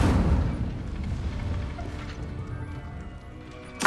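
The Incendio fire spell in Hogwarts Legacy bursts out with a deep, rumbling whoosh of flame that slowly fades, with a sharp crackle near the end.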